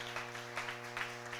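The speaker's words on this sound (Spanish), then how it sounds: "Fuerte ese aplauso al Señor" A church congregation claps steadily for the Lord during a sermon, sustained crowd applause with a droning keyboard or organ tone underneath and no clear voices.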